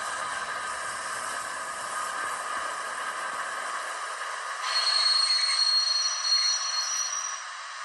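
A model locomotive fitted with a Hornby HM7000 sound decoder and a small speaker plays steady hissing, rail-like noise. A thin, piercing whistle tone joins partway through, then cuts off near the end.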